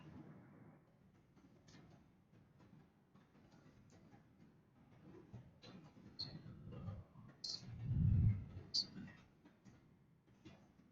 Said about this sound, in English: I'll just have to type faster.